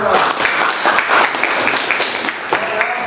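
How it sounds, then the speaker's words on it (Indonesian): Students in a classroom clap together in a loud, close, rhythmic burst lasting a few seconds, with voices mixed in. "Siap, tepuk tangan."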